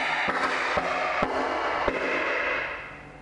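Burning alcohol with hydrogen peroxide and potassium permanganate erupts in a loud, roaring crackle, with several sharp pops and bangs punctuating a continuous rushing hiss that fades at the end.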